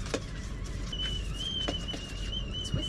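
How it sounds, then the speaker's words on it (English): A pressure cooker valve gives a thin, steady whistle that starts about a second in and carries on, fairly faint, over low kitchen background noise and a few soft clicks. "this is my 10-tone valve, so I just seal that off to stop it from whistling"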